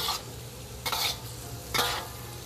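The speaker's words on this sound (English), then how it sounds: "I'm going to smash the curry paste in. Okay, and then stir it gently." Curry paste is stirred into frying meat and prawns in a pan, with three brisk scraping strokes spaced about a second apart over a steady low sizzle, close and fairly quiet.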